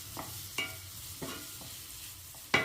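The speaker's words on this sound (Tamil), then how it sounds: "இப்போ தக்காளியை போடுவோம். தக்காளி போட்டாச்சு." Tomatoes frying with softened onions in a pan for Bombay chutney: a low sizzle under a few distinct spoon strokes scraping the pan at irregular intervals, the last one loudest, close by and with no voices.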